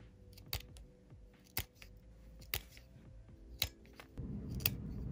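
Glued-on acrylic nail tips are clipped short one by one, giving sharp isolated snaps spaced about a second apart, close and crisp over quiet background, with a brief rustle near the end.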